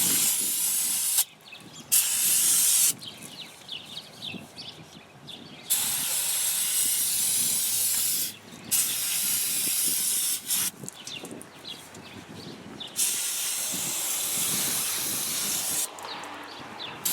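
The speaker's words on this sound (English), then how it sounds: "time to clean stuff up using a brake cleaner and a drain pan" Brake cleaner sprays onto the rear brake parts of a Ford F-150 truck over a drain pan, giving loud, steady hissing blasts of several seconds each, broken by short pauses between bursts.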